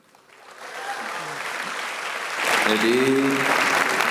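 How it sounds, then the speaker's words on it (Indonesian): Audience applause at a speaking event in Jakarta, clapping building over the first half second and holding steady, then growing louder near the end while someone speaks over it. "bagus, tepuk tangan dulu."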